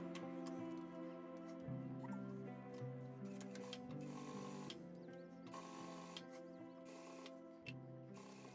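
A sewing machine stitches a bag in steady mechanical runs, its motor whirring with rhythmic ticking and brief pauses between bursts, faint and close with no talk.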